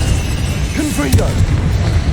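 A Confringo fire spell explodes in Hogwarts Legacy, a short booming blast with a crackling burst over a dense rumbling battle background, with voice-like sounds in the mix.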